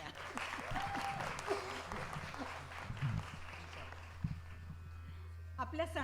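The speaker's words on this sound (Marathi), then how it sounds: "पुन्हा एकदा टाळ्या" Audience applause at a Diwali Pahat morning concert, sustained clapping from a crowd that carries steadily through the whole stretch with a low hum beneath, a few louder claps near the end.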